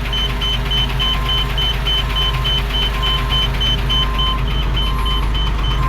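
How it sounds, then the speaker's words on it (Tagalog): A truck's power take-off runs noisily, a constant loud mechanical drone with a faint repeating high tone, steady and close throughout with no talk. "yung maingay na yan, PTO na yan."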